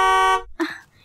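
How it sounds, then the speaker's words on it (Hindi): A car horn blares outside in one long, loud, steady honk lasting about half a second, then cuts off before a voice starts speaking. "ये बाहर गाड़ी का हॉर्न कौन बजा रहा है इतनी देर से?"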